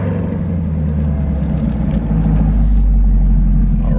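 Deep, steady engine rumble from a Chevrolet Camaro 2SS, heard up close and loud, the low drone swelling a little partway through.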